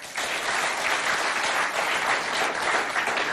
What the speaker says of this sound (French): J'espère que les Dobalais s'applaudissent eux-mêmes parce que vous avez été formidables